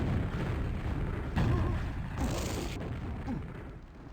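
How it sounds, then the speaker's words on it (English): Two booming explosions in a QuakeWorld duel match rise out of dense, continuous in-game noise, heavy and rumbling, with no break in the loud action around them. "that was two explosions"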